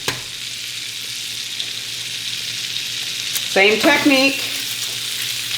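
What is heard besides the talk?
eggs frying sunny side up on a griddle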